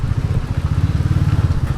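A Royal Enfield Classic 350 motorcycle on the road to a temple near Pune, its engine thumping in a steady, rapid low pulse, close and fairly loud with no talk over it.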